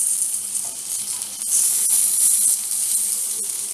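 Stuffed okra stir-fried in a pan over low heat, giving a continuous bright sizzle with faint scraping of stirring, steady and close with no voices.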